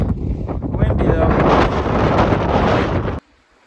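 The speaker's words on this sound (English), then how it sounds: "It's windy up here." Strong wind on a mountain top in the Saddlebacks along the Appalachian Trail roars and buffets the microphone in a loud, continuous rumble, then cuts off abruptly into near silence.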